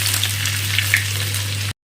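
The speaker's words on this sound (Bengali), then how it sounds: "তেল গরম হয়ে গেছে, দেবো শুকনো লঙ্কা, দেবো কাঁচা লঙ্কা, দেবো আদা কুচি" Dried red chillies, green chillies and chopped ginger frying in hot oil for a paneer dish, a close, steady crackling sizzle with a low hum beneath it, ending abruptly.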